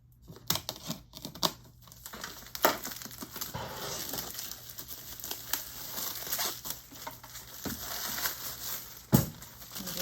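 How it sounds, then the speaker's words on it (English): Plastic protective film peeled off a new Cricut mug press during unboxing, a steady close crinkling and rustling that runs throughout, with a few sharper crackles. "Taking the plastic film off of it."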